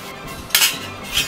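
Metal food tongs from a Russell Hobbs air fryer are handled, giving two short, bright metallic clinks about half a second apart, close up and otherwise quiet.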